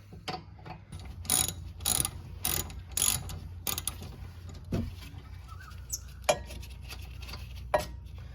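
A wrench working loose bolts during a brake rotor change: a run of sharp metallic ratcheting clicks and clanks in short bursts, fairly close, over a low steady background hum, with no talking.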